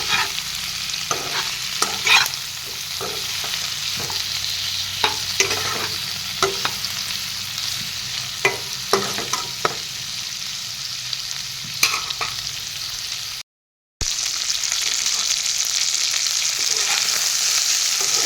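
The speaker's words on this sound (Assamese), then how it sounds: "মাছখিনি এনেদৰে কম জুইতে ভাজি দিম" Fish pieces frying over a low gas flame in a pan for a jika and goroi fish curry, a steady soft sizzle with repeated clinks and scrapes of stirring, a brief dropout near the end, no talk.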